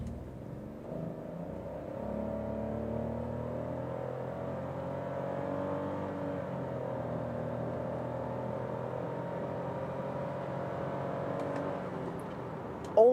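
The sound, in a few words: Citroën C3 Aircross accelerating hard from a launch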